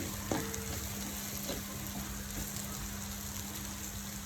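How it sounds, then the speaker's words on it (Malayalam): Ginger, garlic and spice powders such as chilli, coriander, turmeric and garam masala sautéing in a pan for chickpea curry, giving a continuous close sizzle with occasional stirring scrapes and a steady faint hum underneath. "ഇഞ്ചി വെളുത്തുള്ളിയും ചേർത്ത് വഴറ്റി മുളക് പൊടി, മല്ലിപ്പൊടി, മഞ്ഞൾപ്പൊടി, ഗരം മസാല ഇത്രയും ചേർത്ത് വഴട്ടുകയാണ്."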